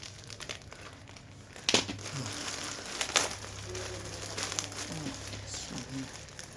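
Plastic bags crinkling while a package holding an aikido hakama is unboxed; uneven rustling and crackling, with a couple of sharper crinkles and faint background noise, no talking.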